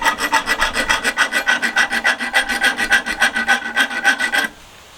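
Thread chasing comb filing and rasping along a screw's thread in rapid back-and-forth strokes, a steady bright metallic scrape pulsing about four times per second, close and loud, stopping abruptly near the end.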